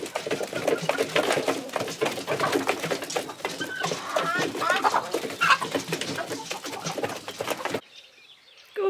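A crowd of farm chickens gathers close at breakfast time on a frosty morning, with dense, loud clucking, cooing calls and bursts of wing flapping, until it cuts off abruptly near the end.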